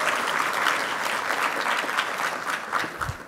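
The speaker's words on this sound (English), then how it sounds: "Can we have a round of applause for Lucero as well for all that she has been doing?" An audience at an immigration plenary claps in a steady, dense round of applause that stays fairly loud and even from start to finish.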